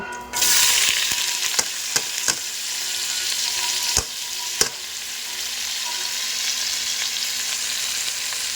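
Raw jackfruit pieces frying with potatoes in a pan, a loud continuous close sizzle with a few sharp utensil clicks scattered through it and no talking.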